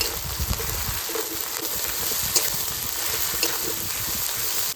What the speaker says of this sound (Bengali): এবার বাটা পেঁয়াজটা দিয়ে দেবো তার সাথে দেবো রসুন বাটা একটুখানি আদা বাটা এবার ভালো করে ভেজে নেব